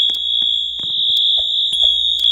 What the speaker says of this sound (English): Fire alarm number 3 and panel.